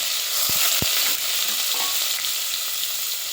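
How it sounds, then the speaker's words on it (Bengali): Onion and garlic hit hot oil in a pan, giving a loud, steady close sizzle and crackle with a couple of brief knocks of a utensil near the start; no speech. "তেল গরম হয়ে গেছে, এখানে দিয়ে দিচ্ছে পেঁয়াজ রসুন, লবণ, পেঁয়াজ রসুন দিয়ে দিলাম।"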